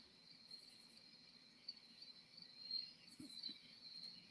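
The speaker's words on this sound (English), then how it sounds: "Wow, these crickets are putting me to sleep." Crickets chirp at night in a faint, steady, high-pitched drone, with a few soft background rustles and no voices.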